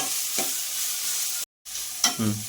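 Vegetables stir-frying in a pan for fried rice, a steady bright sizzle with a couple of stirring scrapes, briefly dropping out mid-clip before resuming.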